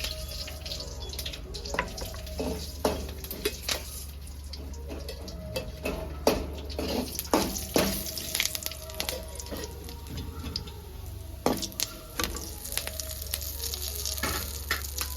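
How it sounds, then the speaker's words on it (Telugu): Tempering sizzles and fries in a pan for a mango roti pachadi, with a steady close hiss broken by scattered clinks and stirring knocks, plus a low constant hum underneath. "చూడండి తాలింపు బాగా ఫ్రై అయింది."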